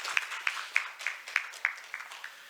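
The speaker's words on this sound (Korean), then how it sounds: "여러분 환영의 박수 부탁드리겠습니다" Welcoming applause at a forum session on science diplomacy, fairly faint with a few distinct claps standing out at a steady rhythm before fading.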